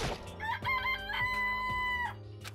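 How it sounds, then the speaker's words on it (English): Chicken sounds from the video game Danganronpa: a loud, close rooster crow with clucks around it, heard clearly on its own without talk. "It's a chicken. It really is, right?"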